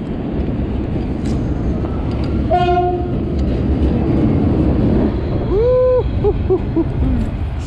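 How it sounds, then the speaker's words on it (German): A train runs along the rails in a loud, steady rumble lasting the whole stretch, with two horn-like tonal calls rising above it, one brief and one longer, near its end. "Der Zug auf der Schiene."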